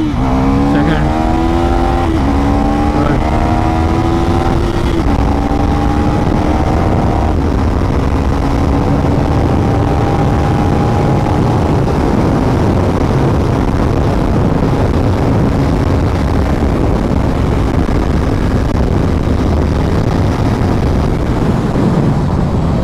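A 2024 KTM Duke 390 motorcycle engine runs near its top speed of around 150, holding a loud sustained drone as the tone climbs through gear changes early on, with heavy wind rush throughout.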